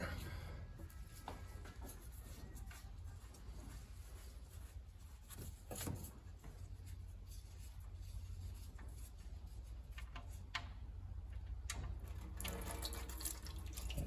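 Engine oil drains from the sump of a petrol Hyundai ix35 into a drain pan after the plug is pulled, a steady liquid stream with splashing and trickling throughout, heard up close and fairly faint.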